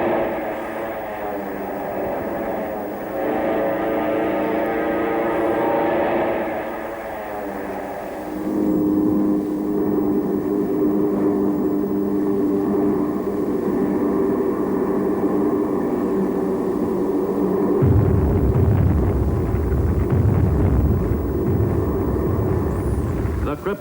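Japanese warplanes taking off for the Pearl Harbor raid: loud, sustained droning of propeller aircraft engines that shifts in pitch and swells, with a deeper rumble joining near the end, while someone narrates over it throughout.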